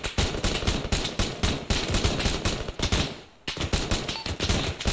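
Rapid bursts of automatic gunfire from the military simulation game Arma 3, loud and continuous, with a brief lull near the end before shooting resumes.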